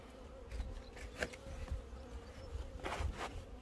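Bees hum steadily at a beehive in an apiary struck by foulbrood disease, a soft continuous drone with scattered louder buzzes as individual insects fly close past the microphone; no one speaks.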